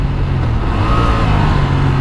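Engine of a 2023 Honda Transalp XL750 adventure motorcycle pulling hard, a loud, continuous close-up roar with rising pitch, mixed with wind rush and no talk.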